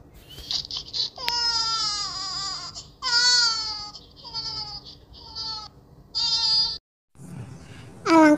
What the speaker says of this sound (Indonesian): bayi itu tiba-tiba menangis.